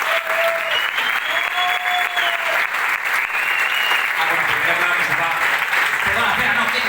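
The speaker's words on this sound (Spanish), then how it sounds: "Un fuerte aplauso." Audience applause at a culture-house award ceremony, a loud continuous roll of clapping with a few cheers and voices mixed in throughout, sustained at full strength for the whole stretch.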